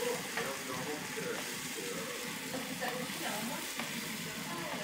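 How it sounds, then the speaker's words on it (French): Bell pepper and rice stir-frying in oil in a pan over high heat, a steady dense sizzle with scraping stirring noises throughout, close and continuous. "Alors, là on envoie le poivron. J'ai mis le feu fort, hein. Toujours remuer."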